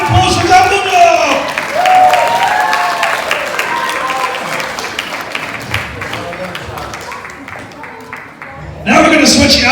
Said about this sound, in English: big round of applause for Dumbledore